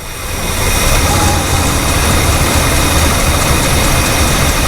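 A Ford 390 FE V8 with a vacuum leak at the power brake booster idles steadily up close, a continuous low rumble with a hissy broadband wash that settles and smooths out over a few seconds.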